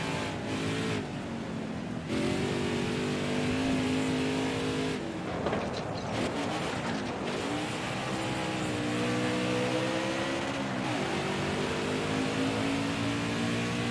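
A NASCAR stock car engine in NASCAR Heat 4 roars loudly and continuously. It drops and climbs in pitch as the driver downshifts through a turn and then accelerates back out.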